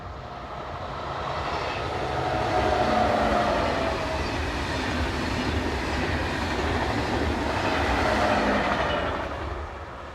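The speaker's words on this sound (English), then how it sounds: "TGV set number 506 is in the new Camion livery, seen on this service from Paris." TGV high-speed train set in Camion livery on a service from Paris passing by, a rushing roar that swells and fades with faint rail clatter, loudest mid-pass and fairly close.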